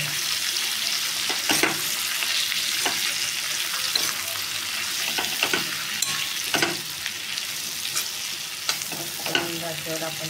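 White bitter gourd sabzi with crushed peanuts, chili powder and coriander stir-fries in a pan over low heat, a steady close sizzle broken by repeated scraping stirs, with no voices.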